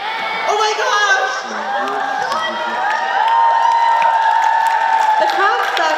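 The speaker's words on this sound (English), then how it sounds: "The crowd started cheering for Newt loudly" A crowd at an award ceremony cheers and whoops loudly for a local hero, with excited shouts and scattered clapping swelling and holding steady.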